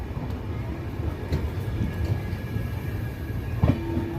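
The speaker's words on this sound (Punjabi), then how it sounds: "ਟ੍ਰੇਨ ਚੱਲ ਰਹੀ ਹੈ" Steady low rumble of a moving Amritsar to Nanded Sahib train, with faint rattles and clanks from the carriage and a brief metallic squeal near the end.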